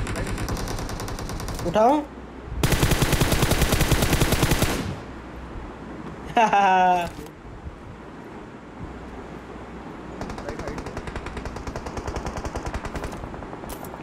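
Automatic gunfire in a BGMI-style battle royale video game, one long loud burst and a shorter volley, then fainter distant rattling, with voices talking throughout.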